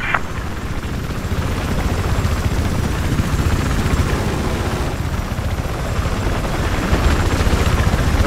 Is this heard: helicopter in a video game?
yes